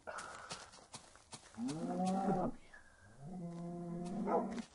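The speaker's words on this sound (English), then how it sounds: "I'm hoping the cows aren't too loud on the video" Cows in the Minecraft video game give two drawn-out, nasal moos, one after the other, each a few seconds apart over faint background noise.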